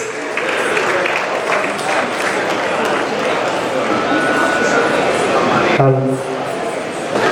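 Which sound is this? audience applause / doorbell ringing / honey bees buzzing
audience applause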